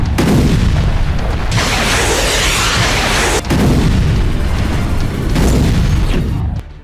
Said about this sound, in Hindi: आर्टिलरी और एमएलआरएस से पावर ग्रिड और इमारतें ध्वस्त